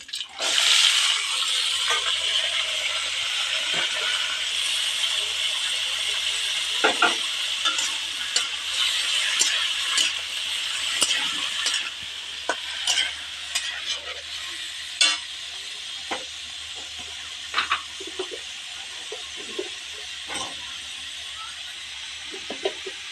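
Red radish fries in a pan with a bright, continuous sizzle. A spatula scrapes and stirs at irregular moments, and the hiss gradually settles to a quieter level.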